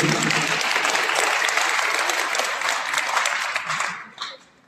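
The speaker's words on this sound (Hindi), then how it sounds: "युवकों की संख्या भी ठीक है, ताली बजाइए उनके लिए।" Sustained applause from an audience at a Christian talk, steady and fairly loud, tapering off near the end.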